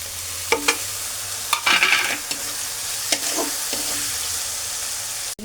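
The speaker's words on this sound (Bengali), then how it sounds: "এর মধ্যে পেঁয়াজ কাঁচামরিচ দিয়ে আরেকটু ভেজে নেব" Meat frying in a pan with onion and green chili for a breakfast noodle dish, giving a steady close sizzle broken by repeated scraping stirs of a utensil.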